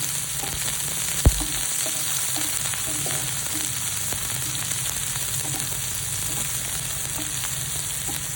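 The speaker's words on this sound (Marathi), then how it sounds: "आता आपण कांदा टाकूया कांदा छान लागतो रंगावर परतून घ्यायचा आहे गुलाबी" Onion and garlic fry in a hot pan, giving a steady, loud, close sizzle throughout with one sharp knock near the start.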